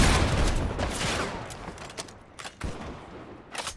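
Gunfire in Fortnite gameplay comes as a dense volley of rapid shots, then thins to a few scattered, quieter bangs, with no voice over it.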